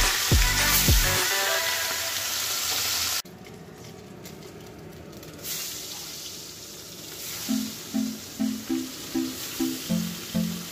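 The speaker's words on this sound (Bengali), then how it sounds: "এবারে আমি মাছগুলোকে এক এক করে ভেজে নেব।" Fish pieces fry one at a time in a pan with a steady, fairly loud sizzling hiss. Short melodic notes and other tones play over it in places, and nobody speaks.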